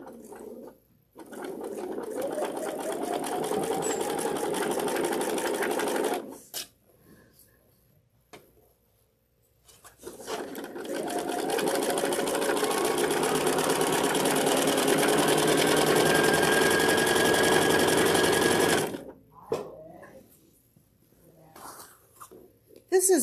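A sewing machine quilts a small quilt in two long, even runs of rapid mechanical stitching with short quiet pauses between them, close and steady.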